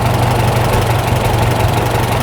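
A Farmall tractor engine idles steadily after a carburetor adjustment, a loud, close, even low rumble with a constant throb and no talk.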